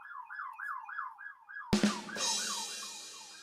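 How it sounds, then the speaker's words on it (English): Police sirens wail past outside, a repeating up-and-down electronic siren clear and fairly close at first, then a louder blast of traffic rush as a vehicle passes, with the siren continuing more faintly behind it. "lots of cops going by outside right now"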